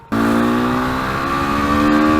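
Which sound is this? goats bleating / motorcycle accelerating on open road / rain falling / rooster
motorcycle accelerating on open road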